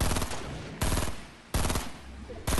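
Rapid automatic gunfire at an enemy in Fortnite comes in three long dense bursts separated by brief pauses, loud and close, with no voices over it.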